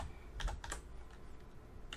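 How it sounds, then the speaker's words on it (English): Quiet keystrokes on a computer keyboard while entering a command in Kerbal Space Program: a quick cluster of clicks, a pause, then one more tap, close by with low background hiss and no speech. "I'm just typing that in."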